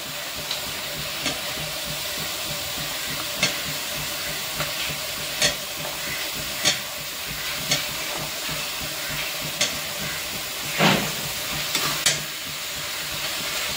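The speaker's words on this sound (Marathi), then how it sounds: "आता आपण याच्यामध्ये पनीरचे तुकडे टाकू." Paneer pieces stirred into sizzling curry masala, a loud constant sizzle close by, punctuated every second or two by sharp spatula scrapes and taps against the pan.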